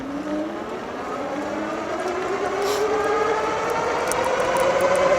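Tesway X7 dual-motor all-wheel-drive e-bike accelerating in dual-motor mode, a rising electric motor whine climbing steadily in pitch over a few seconds with wind rush, no talk.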